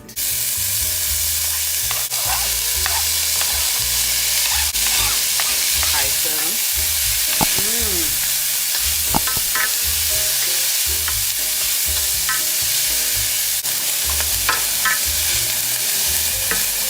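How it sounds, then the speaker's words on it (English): Onion and green pepper sauté in a hot skillet, a steady close sizzle and crackle that runs unbroken throughout, with occasional stirring scrapes and small pops on top and no talking. "So we're going to allow these to saute some"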